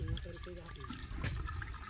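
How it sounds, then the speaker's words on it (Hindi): Water pours from a pipe into a machine outdoors, a continuous splashing gush with faint, indistinct voices underneath. "और अभी पानी डाल रही है मशीन में।"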